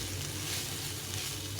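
Leftover cooked rice stir-fried in a pan, a steady close sizzle with soft scraping stir sounds running throughout, plus a brief sharp clink near the end.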